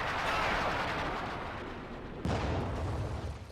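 A pack howitzer fires in a Company of Heroes 2 battle, one loud, sharp artillery boom over a continuous rumbling wash of distant gunfire.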